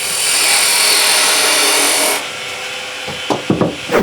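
A woodturning chisel cuts a small chamfer on a lathe, giving a loud, steady hissing scrape for about two seconds that then stops and leaves a few light knocks and taps.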